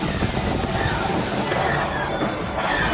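A train rumbles steadily on the Smuggler's Run ride soundtrack at Disneyland, loud and continuous, with faint metallic squeals and scattered high tones layered over the noise.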